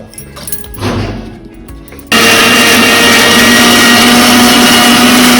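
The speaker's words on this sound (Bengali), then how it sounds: "এবারে পেঁয়াজ আর রসুনটাকে পেস্ট করে নেব।" An electric blender grinds onion and garlic into paste, starting abruptly after a few quiet clinks and roaring loud and steady, close by, until the clip ends.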